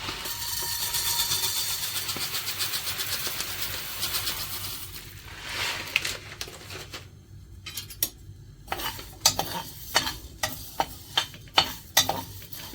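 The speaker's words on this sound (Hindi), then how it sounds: "बिल्कुल हल्के आंच पे मैं इसे भूनूंगी, ताकि इसकी जो सौंधी खुशबू है वो रहे" Spices with a little coriander roast in a pan over a very low flame, a soft steady sizzle that thins out into a run of sharp, close scrapes and taps of a spoon stirring against the pan.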